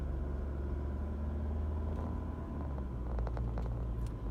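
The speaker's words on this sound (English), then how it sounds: "Look at that traffic." Freeway traffic with no emergency lane rolls past in a steady low engine rumble and tire drone, heard from inside a vehicle, with a few faint clicks near the end.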